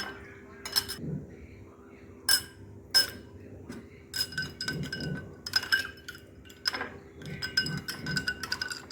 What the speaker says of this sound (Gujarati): હવે આઈસ ક્યુબ નાખીશું.